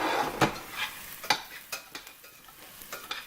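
An omelette in a pan is scraped and loosened from the bottom with a utensil, giving several sharp, irregular scraping strokes over a faint, soft sizzle. The sound is close and has no talking.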